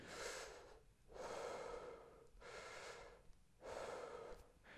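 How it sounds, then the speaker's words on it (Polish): Slow, deep abdominal breaths drawn into the belly, close and alone: three long airy inhalation-exhalation cycles with short pauses between them. "Staramy się tak oddychać, nabierać powietrza do jamy brzusznej tutaj."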